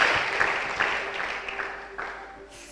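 A church congregation applauding, a dense burst of many hands clapping that starts loud and gradually fades over a few seconds in a reverberant hall.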